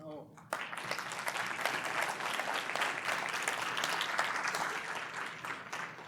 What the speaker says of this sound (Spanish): muchas gracias por el aplauso